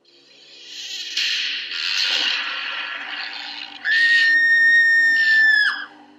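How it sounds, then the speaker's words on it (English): A loud, drawn-out scream rings out from the Night Trap video game on 3DO, holding a steady piercing pitch for about two seconds after a stretch of noisy, mixed game sound. "Watch out, there's a loud scream, and then we'll pause."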